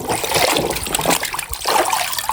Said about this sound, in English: let's go for washing in water